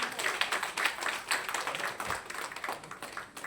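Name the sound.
audience clapping for teacher award recipients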